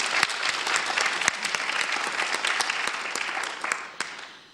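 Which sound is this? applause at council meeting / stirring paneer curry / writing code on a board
applause at council meeting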